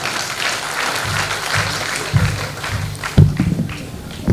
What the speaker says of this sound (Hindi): तालियों की गूंज के साथ